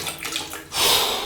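Cold water is poured over a body during a morning bath, a loud splashing gush that swells after a softer trickle and carries on to the end.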